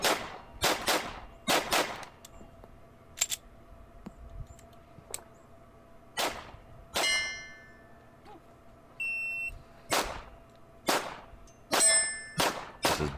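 Glock 43 pistol shots ring off steel targets, a series of sharp cracks each followed by a bright metallic clang, fired in quick pairs and bursts with short pauses between, loud and close.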